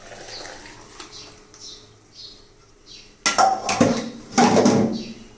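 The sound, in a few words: curry pot taken off stove, poured into another vessel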